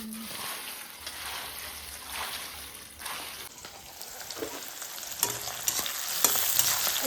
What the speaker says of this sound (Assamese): একেলগে পিঁয়াজ আদা নহৰু জলকীয়া দি অকণমান ভাজি ল'ম